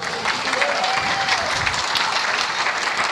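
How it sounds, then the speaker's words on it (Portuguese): Church congregation applauding steadily, a dense continuous wash of many hands clapping throughout, with faint voices mixed underneath. "Pode aplaudir que é para o Senhor"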